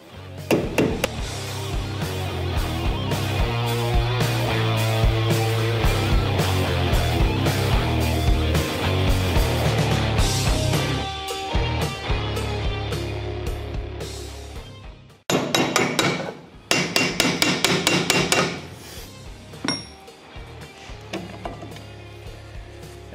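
Repeated metallic hammer blows on sheet metal with simple hand tools, ringing out dense at first over a steady mechanical hum, then sharper isolated strikes after a brief pause.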